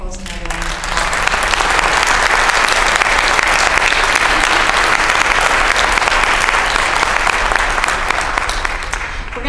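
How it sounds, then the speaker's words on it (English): Sustained, dense applause from a staff audience at an inservice keynote fills the room, steady and loud throughout with no talking over it. "Let's give Dr. Nichols another round of applause."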